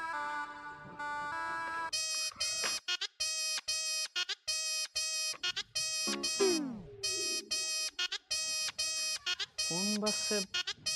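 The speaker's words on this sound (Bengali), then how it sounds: "ফোন বাজছে" A mobile phone ringtone rings loudly in a home scene from a drama, repeating a bright electronic melody in short bursts for several seconds after a brief musical lead-in, with no talk.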